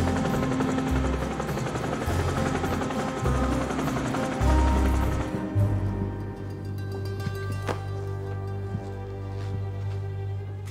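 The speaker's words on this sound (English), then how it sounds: "The helicopter." A helicopter's rotor thumps and whirs steadily throughout, a loud, continuous engine drone that shifts slightly in tone partway through.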